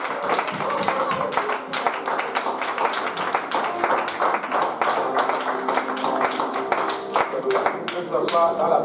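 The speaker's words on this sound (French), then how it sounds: "battez les mains encore." Church congregation at an evening service clapping hands together, a dense continuous patter of many claps throughout, with voices and music mixed underneath.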